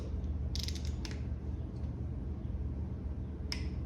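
A torque wrench clicks as it is tightened to 23 foot-pounds on a B18B1 engine during a piston ring job: a couple of sharp close mechanical clicks early, then another single click near the end over a low hum.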